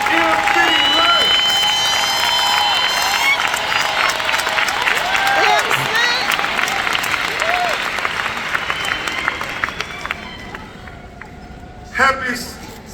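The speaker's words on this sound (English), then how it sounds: "let's give a big round of applause for your sorority sister, the Queen, MC Light" Large crowd applauding loudly and steadily at a Sigma Gamma Rho sorority centennial public meeting in Indianapolis, with cheers and a voice over the clapping, fading toward the end before a brief burst.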